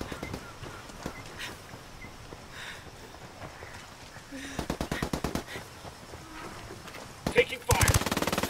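Machine gun fire in a video game comes as short rapid bursts over a quiet background, with a longer, louder burst near the end, heard at moderate distance.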